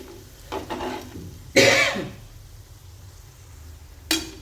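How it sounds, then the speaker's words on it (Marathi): Fresh pigeon pea (tur) thecha being sautéed and stirred in a pan, with a few short bursts of scraping and sizzling separated by quiet stretches, close and moderately loud. "आता आपण परतून घेऊया अशा पद्धतीने आता हा सर्व परतून घेऊया"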